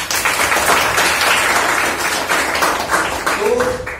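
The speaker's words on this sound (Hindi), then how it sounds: "के लिए जोरदार ताली" Students at the close of a group discussion session break into loud, dense applause for both teams, a steady wash of clapping with voices mixed in beneath it.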